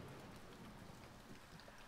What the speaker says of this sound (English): Just ambient rain noises.